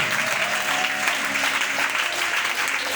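Congregation applauding together during a French-language church service, a steady sustained wash of clapping from many hands, fairly loud and continuous throughout with no speech over it.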